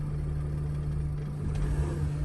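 A 2007 Freightliner Sprinter with a newly installed engine runs steadily at a low, droning hum, a constant near tone with no clear stumble or sputter, as though it is on the verge of quitting.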